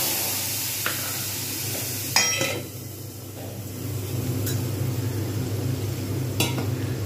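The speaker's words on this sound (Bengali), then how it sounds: "এই তেলের মধ্যেই আমি দিয়ে দেবো মশলা" Spice paste sizzles in hot frying oil for a Bengali papad curry, a steady close frying hiss broken by a few sharp clinks and scrapes of a spoon against the pan.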